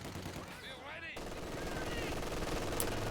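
Dense, continuous rattling gunfire fills a Company of Heroes 2 battle, with steady machine-gun bursts. A commentator talks over it throughout.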